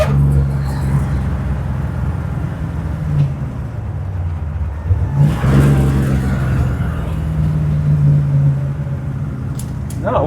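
A 1955 Chevy V8 rumbles loudly from inside the car while driving, its engine revving up and easing off with a deep throaty drone and a brief louder surge midway.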